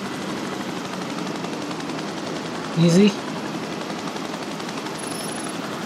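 A helicopter flying in the video game Biological Imperative gives off a steady, even rotor drone throughout, with a brief spoken word or two over it.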